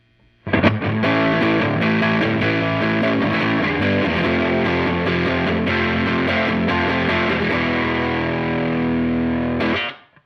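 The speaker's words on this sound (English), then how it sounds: "Distortion all the way up." Heavily distorted electric guitar through an Ibanez TS9 Tube Screamer reissue pedal with distortion all the way up, played continuously for about ten seconds, thick and saturated with strummed chords, loud and close, then cut off.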